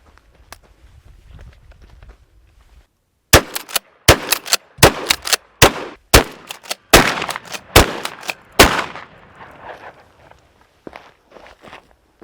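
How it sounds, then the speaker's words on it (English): Benelli SuperNova pump shotgun fired at targets in rapid pairs, loud sharp blasts in quick succession after a quiet opening, with short gaps between pairs and the report echoing briefly. "I'm just going to see how quick I can put two into each target"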